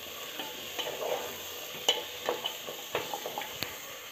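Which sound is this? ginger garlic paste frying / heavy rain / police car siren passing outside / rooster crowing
ginger garlic paste frying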